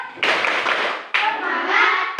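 Children on a school lesson recording do a rhythmic spirit clap. Two bursts of clapping come close and loud, separated by a brief pause, and voices chant along with the claps.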